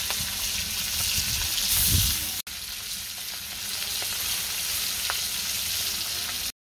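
Small hilsa fish frying in a pan, a constant loud hiss of sizzling oil with occasional light crackles, close up and steady, with a brief break partway through.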